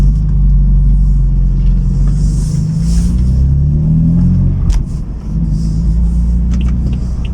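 A BMW M4 with a modified, valve-opened exhaust revs in first gear with a loud, deep rumble that rises and falls in pitch, close up and continuous.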